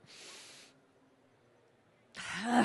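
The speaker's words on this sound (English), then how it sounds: "I want to sneeze." A breathy inhale is followed after a pause by a sharp, loud sneeze close to the microphone.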